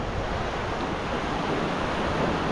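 Sea waves at the 25 km beach near Agadir, Morocco, form a steady, full roar of surf with no breaks, close and fairly loud.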